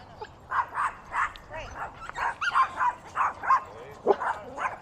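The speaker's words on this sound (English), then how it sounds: "She starts to whine." A pet dog whines during an obedience training session with distractions, giving a string of about a dozen short, high, insistent whimpers and yips close by.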